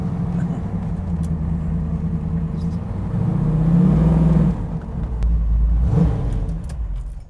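A Ford car drives along with a steady engine rumble that swells as it accelerates and revs, heard close from inside, with faint rattles and no talk.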